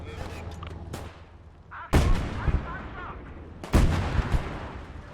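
Artillery and gunfire boom through a WWII Eastern Front battle in Call to Arms Gate of Hell, with two sharp, loud blasts and their rumbling tails over scattered distant shots and a background voice.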